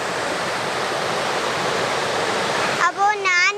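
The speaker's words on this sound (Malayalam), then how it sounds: "അപ്പോൾ നമ്മുടെ പുതുക്കുളങ്ങര അടുത്താണ് ഈ വെള്ളച്ചാട്ടം." Kattara waterfall near Puthukkulangara roars in a steady, dense rush of falling water up close, and a voice briefly cuts in over it near the end.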